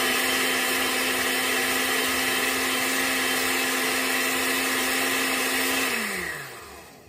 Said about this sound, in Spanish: Y ahora vamos a licuar esto.